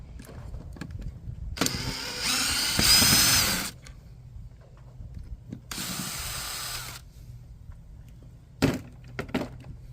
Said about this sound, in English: we're going to take these 2 screws out right here